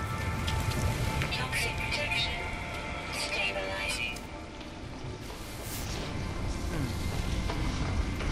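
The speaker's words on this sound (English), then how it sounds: "I guess it's the rain then." Rain in the video game No Man's Sky, heard from inside a cave as a continuous spattering patter of drops on surfaces, with a voice talking over it.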